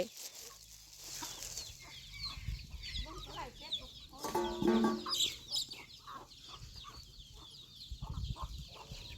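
Chickens clucking and calling at dusk around a farm near rice fields while ducks and hens are fed, with several birds vocalizing at moderate distance and a louder burst of clucks midway.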